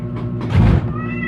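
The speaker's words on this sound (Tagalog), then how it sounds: "Ang alaga kong pusa nag-wow na." Pet cat giving a single meow that rises and falls in pitch, fairly loud and close, with a soft knock or thunk just before it and faint background noise.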